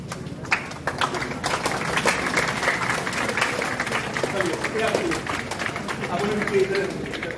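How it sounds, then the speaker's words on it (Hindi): Audience at a class toppers' award ceremony clapping for a student, heard as dense, continuous applause from a crowd with scattered louder claps, while people talk and call out over it. "स्वाति के लिए जोरदार ताली बनती है।"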